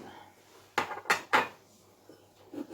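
A knife scrapes and mixes grape violet colouring into royal icing for sugar cookies, giving three sharp close scraping strokes in quick succession, then quiet, then a softer scrape near the end.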